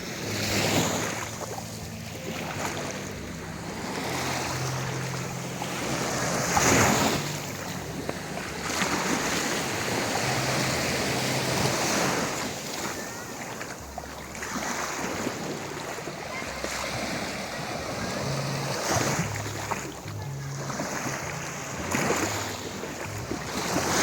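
Continuous wash of waves breaking and surging on a beach at Marine Base, with wind buffeting the microphone and faint distant voices.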